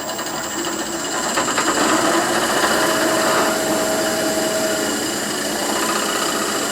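A power drill runs continuously, a bit boring a mounting hole into a custom turning tool handle made of Cadillacs, with a steady whirring drone at moderate loudness and no talk.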